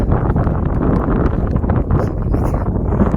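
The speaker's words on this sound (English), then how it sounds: "there's a cold wind and some cloud cover" A cold wind blows across the microphone on an open road while hiking, giving loud, continuous low rumbling buffeting that gusts throughout, with no speech.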